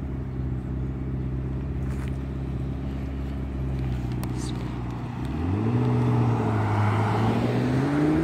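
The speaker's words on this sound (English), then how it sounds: "That's a McLaren 650S Spider." A McLaren 650S Spider supercar near a college campus drones steadily, then its engine note climbs in pitch and grows louder as it accelerates past close by, with voices talking over it.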